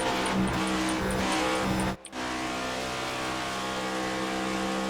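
A race car engine drones on track at Auto Club Speedway in a racing video game, a loud, steady high-revving roar that cuts out briefly before resuming.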